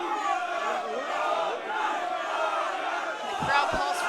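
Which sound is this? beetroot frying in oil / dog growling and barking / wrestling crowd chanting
wrestling crowd chanting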